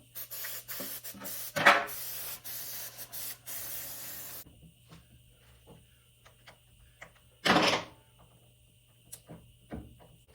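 Brake cleaner sprayed in two short, loud hissing bursts onto oil-soaked brake shoes on a back wheel, with a steady low hum and faint clicks and handling noises in between.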